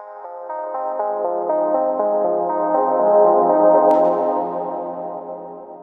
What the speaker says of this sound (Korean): 먼저 리버브를 걸어주고 리버브를 건 양을 리드와 라이트를 모두 활성화해준 상태로 재생을 한 다음에